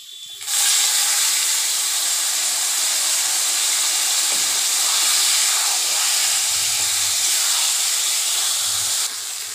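Leafy greens dropped into hot oil burst into a loud, broad sizzle that starts abruptly. It holds as a sustained, close hiss for around nine seconds before cutting off.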